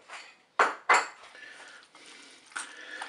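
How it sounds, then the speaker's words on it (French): A utensil clinks twice sharply against a bowl, followed by soft scraping as salad is stirred and mixed with mayonnaise, with another light clink at the end. "Je vais pouvoir ajouter également la mayonnaise. On mélange bien sûr."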